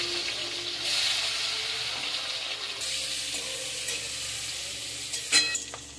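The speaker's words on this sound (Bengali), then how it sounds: "আলুটা ভেজে নিচ্ছি।" Potatoes frying in the same oil used for the prawns, a soft, steady sizzle with stirring and a few brief scraping clatters near the end.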